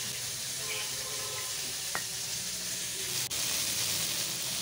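Cut potatoes fry in hot oil with bay leaves and cumin, a steady soft sizzle with an occasional faint clink of a utensil against the pan.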